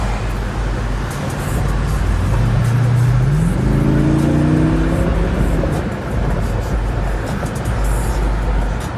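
Road traffic with cars driving past, a loud continuous roar of engines and tyres close by, with one vehicle audibly accelerating through rising gear tones midway.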